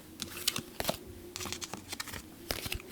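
Heart-shaped tarot cards are shuffled by hand in a series of close, crisp riffling and flicking bursts separated by short pauses, with no voices.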